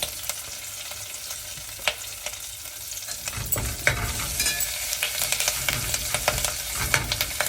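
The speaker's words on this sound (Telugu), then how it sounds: "వేయించిన పచ్చిమిర్చిలో కరివేపాకు, జీలకర్ర," Green chillies, curry leaves and cumin frying in hot oil, a quiet crackle that swells into a steady close sizzle with stirring scrapes.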